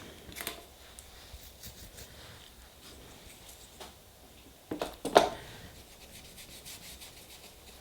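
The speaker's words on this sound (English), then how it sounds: "Too much polish, not enough scraping." Nail polish being scraped off a stamping plate, faint rubbing and scratching strokes at a quiet level, with a couple of sharper scrapes near the end.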